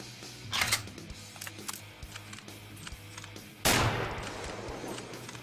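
Gunfire effects dubbed into an amateur film scene of people, including fire department personnel, being shot: scattered sharp cracks early on, then a loud heavy blast near the end that trails off into rumble, with no talking.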